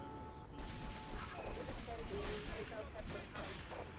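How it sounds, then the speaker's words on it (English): Shotgun fire in Grand Theft Auto 3 comes through as quiet, scattered bursts and crashes within a busy game soundscape, with a voice speaking over part of it. "He's got a shotgun!"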